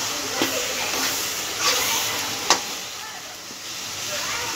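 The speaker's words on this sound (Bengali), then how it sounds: "তেঁতুলটা তেলে সুন্দর করে ভেজে নেব" Tamarind frying in oil for a sweet-and-sour pickle, a steady soft sizzle and hiss with a few faint clicks from stirring, heard close and alone.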